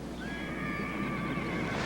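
A horse in a city gives a long, steady whinny over a constant wash of outdoor noise, heard at moderate distance with no talk.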